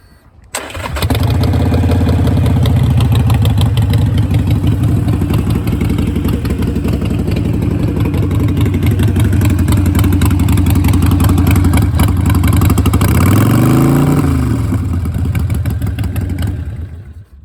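A 2015 Harley-Davidson Sportster Iron 883 motorcycle starts and settles into a loud, steady, close idle, with a brief rev rising and falling near the end before the engine cuts off.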